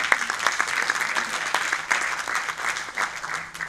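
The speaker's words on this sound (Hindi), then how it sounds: "तालियां कमजोर होती है तो मुझे लगता है शायद सही नहीं सुना रहा है।" An audience at a Hindi poetry recital applauds, with steady, moderately loud clapping from a crowd that holds evenly and fades slightly near the end.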